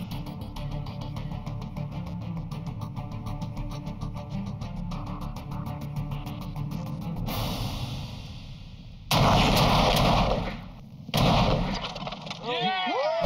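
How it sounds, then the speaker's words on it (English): A Hotchkiss cannon fires: a steady mechanical drone with people talking leads into two loud, close, sustained blasts, then a whooshing tail and a sweeping, warbling sound. "Cannon fired, a deal's a deal, and I own a cannon."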